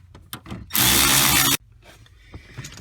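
A power tool runs in one loud, steady burst of just under a second while tightening a bolt on the electric power steering motor of a 2005 Pontiac G6 GT, with faint clicks and handling noise before and after.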